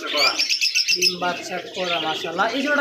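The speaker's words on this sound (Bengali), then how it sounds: "এটা হচ্ছে লাভ বার্ড" A pair of lovebirds for sale at a pigeon and bird market gives rapid, shrill, close chirps in busy bursts, with a voice faintly in the background.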